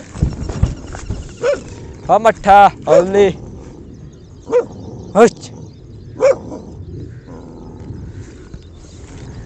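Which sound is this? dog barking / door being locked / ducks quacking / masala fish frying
dog barking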